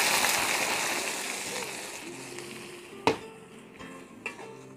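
Ground spice paste for coconut serunding sizzling and frying in hot cooking oil, a steady crackling hiss with a few sharp stirring clinks near the end.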